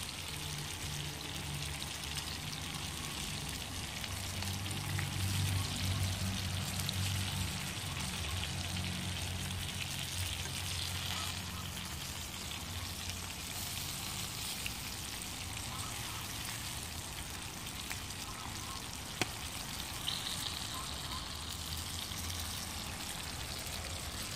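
Home-grown garden peppers frying in oil in a pan on a wood-burning kitchen stove, a dense, continuous sizzle and crackle heard up close throughout, with faint talk in the background.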